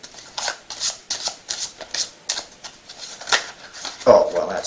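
Playing cards mixed by hand, a rhythmic series of about a dozen quick, close riffling bursts at a steady pace, then a louder shuffle with a brief voice at the end.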